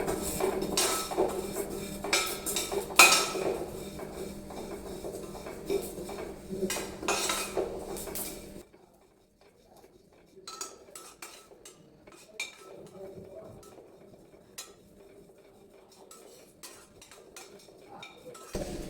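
Cumin and shahi cumin dry-roasting in a pan for homemade masala, stirred with a utensil, giving scraping and clinking strokes that are busy and louder at first, then quieter and sparser.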